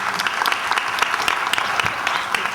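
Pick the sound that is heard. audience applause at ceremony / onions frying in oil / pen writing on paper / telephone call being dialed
audience applause at ceremony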